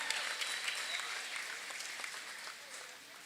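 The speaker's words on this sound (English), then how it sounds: "One more round of applause for tonight's kid captains, Baylin and Brooklyn" A crowd in a school gym applauds the kid captains before a girls and boys basketball game, a soft, sustained wash of many clapping hands that slowly fades toward the end.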